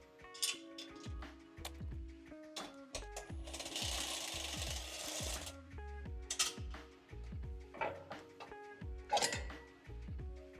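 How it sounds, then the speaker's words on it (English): Repeated bursts from an impact gun fitted with a 9/16 socket, removing the lower footrest bolts on a hi-low power stack, with sharp clanks and a loud, sustained rattling run in the middle, close and without talk. "You can also use an impact gun with a 9/16 socket."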